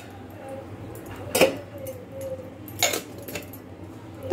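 Dishes, plates and a pan being scrubbed and handled, a few sharp clinks and clatters of metal and crockery spaced out over a low steady background, fairly close.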